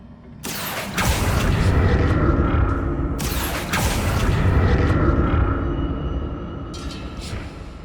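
Bursts of magic in Hogwarts Legacy, two loud booming surges, each opening with a sharp crack and swelling into a long rumbling roar, then a fainter shimmering swell near the end.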